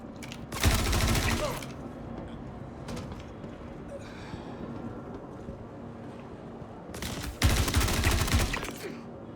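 Rapid gunfire erupts in the Star Citizen video game, two loud bursts of automatic fire at the start and again near the end, separated by quieter ambient game sound and scattered single shots.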